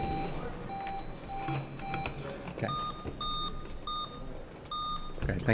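Quiz bowl buzzers sound in turn as a series of short electronic beeps at different pitches, roughly eight tones spaced across a few seconds in a room with faint background noise.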